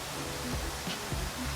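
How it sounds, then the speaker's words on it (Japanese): An electric fan running with a steady broadband whir, constant and close, with nothing else standing out. "扇風機の音うるさくてごめんなさい。"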